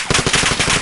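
Rapid automatic gunfire from Call of Duty Modern Warfare multiplayer, a loud, dense burst of repeated shots with no talking.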